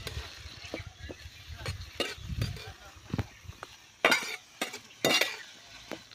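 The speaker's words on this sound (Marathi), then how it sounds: "गवार जी धुवून घेतली होती आता तेलावरती आपल्याला परतून घ्यायची आहे" Cluster beans stir-fried in oil in a pan, with irregular scraping and clinking of a utensil against metal and short bursts of sizzling, close and moderately loud, while a person talks.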